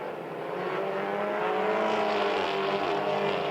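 Race cars on a racing circuit drive past as a group, their engines forming a sustained, rising and blending roar with clear harmonic tones that swell to a peak midway, loud and continuous without voices.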